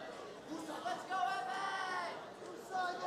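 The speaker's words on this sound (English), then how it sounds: "I hear the crowd cheering for both sides here" Crowd at a robot fighting championship final, a steady murmur of many voices with faint cheering and a commentator talking over it.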